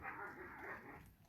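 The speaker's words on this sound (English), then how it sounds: "That is the sound of wolves working something out." Wolves at a wolf sanctuary squabble in winter, a dense run of close, overlapping barks, yips and whimpers that fades slightly toward the end.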